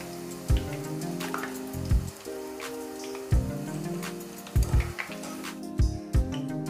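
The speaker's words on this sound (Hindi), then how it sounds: "अभी फूल गोभी को फ्राई करेंगे।" Cauliflower florets frying in hot oil in a pan, a continuous loud sizzle and crackle with repeated low thumps and clatter as the pieces are stirred and moved, close up with no talking.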